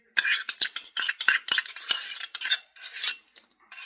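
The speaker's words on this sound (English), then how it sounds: "I use a spoon for the shea butter. And then I use a separate spoon for the coconut oil." A metal spoon scrapes and clinks repeatedly in a glass cup while scooping shea butter and coconut oil, a quick irregular series of close, crisp scraping strokes with brief pauses, with no talking.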